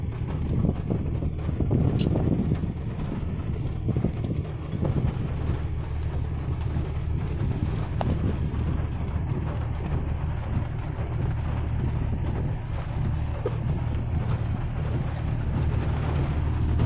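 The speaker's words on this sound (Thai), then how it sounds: "เป็นลมแห้งครับผม" Strong dry wind storm across open rice fields, roaring continuously as loud broadband gusts buffet the microphone with no talk.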